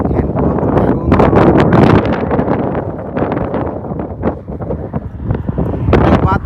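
Strong gusts of wind buffet the microphone outdoors in the countryside near Stockport, England, with loud rumbling bursts that rise and fall unevenly throughout.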